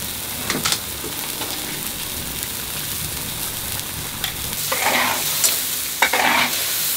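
Pork belly for Sichuan cherry pork stir-fried over high heat as the sauce reduces, a loud continuous close sizzle with occasional bursts of stirring and scraping in the pan, no talk.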